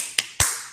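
A teacher leading a classroom peer-teaching lesson does a 'tepuk semangat' clapping routine, heard as two sharp, close hand claps about a fifth of a second apart.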